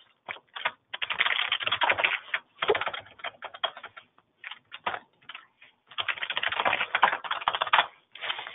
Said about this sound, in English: So I can just keep on typing